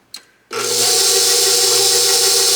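A stand mixer starts up with a click, then settles into a loud, steady motor whir as it beats batter for holiday baking, running alone without talk.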